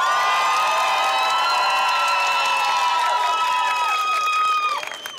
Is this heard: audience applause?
yes